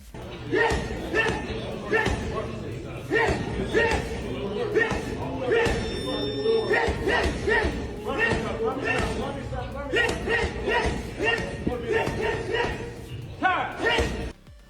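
A boxer pounds a heavy bag in training, landing a long series of rhythmic, punchy thuds and slaps in quick combinations, with talk running over the hits.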